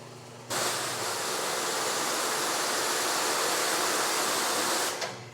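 A Whitco pressure washer pump switched on and spraying cold water, a loud steady hiss and rush that starts abruptly, holds evenly for several seconds, then cuts off.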